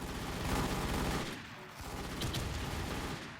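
Video game shooter gunfire, a dense rumbling volley of shots that runs continuously. It dips briefly in the middle and then resumes at a moderate level.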